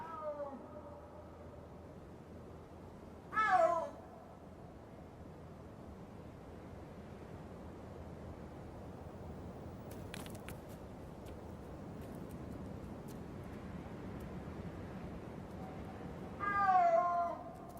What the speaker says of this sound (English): If they're like other big cats, they may call like this for hours, just coming together and wandering apart.